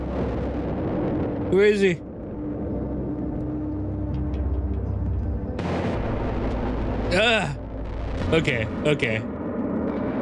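A gas tank blows up in the video game Children of the Sun, a loud booming blast with a rumbling tail amid other game effects, while a player talks over it.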